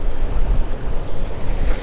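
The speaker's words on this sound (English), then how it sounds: "got waves busting over both sides of the jetty" Waves crash over both sides of a jetty in heavy saltwater swells, a loud, continuous rushing roar with wind buffeting the microphone and no voices.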